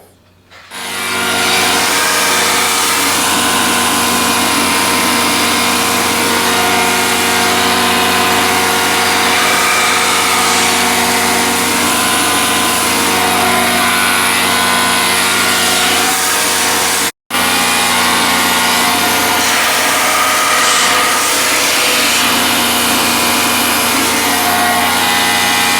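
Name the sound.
sander smoothing resin on an oak lazy Susan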